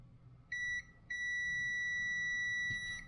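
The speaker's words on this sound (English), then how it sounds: "and it beeps." A multimeter's continuity tester gives two steady high-pitched beeps while its probes touch the pins of a stepper motor salvaged from a floppy disk drive: a short tone, a brief gap, then a long sustained beep, clear over quiet room hiss.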